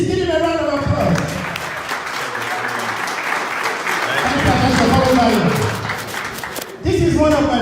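A crowd at a Chicago fundraiser event gives a round of applause for Omoyele Sowore, sustained clapping with some cheering and murmuring voices, pausing briefly before a burst resumes at the close.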